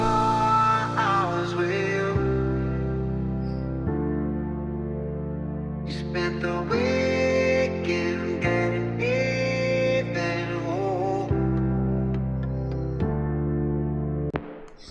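The first verse of a Kygo-style tropical house remix built on an a cappella: a sung lead vocal over mellow sustained chords and steady block-like bass notes, with no talking.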